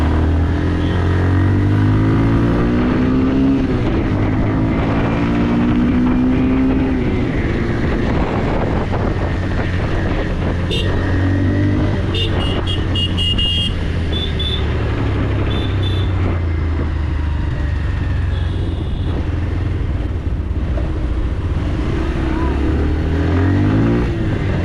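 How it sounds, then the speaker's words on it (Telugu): A 2024 Bajaj Pulsar 150 standard variant is revved in place, its exhaust note climbing and falling through several throttle blips with a steady low drone and some wind noise over the microphone. "Pulsar standard variant exhaust note అయితే మీకు ఒకసారి నేను వినిపిస్తాను"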